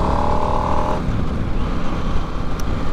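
New Harley-Davidson Nightster motorcycle accelerating hard on a demo ride, a loud engine roar that climbs briefly, then gives way to rushing wind and road noise.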